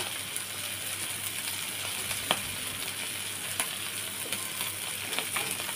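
Tengra fish fry in oil in a kadai, giving a steady, even hiss of sizzling with a few faint clicks and spatters, close and without talk.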